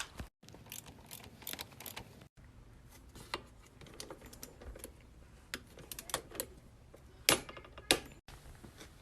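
Motorcycle engine bolts are tightened with a torque wrench: a run of quiet ratcheting clicks and tool handling, then two sharper, louder clicks near the end, all close and with no talking.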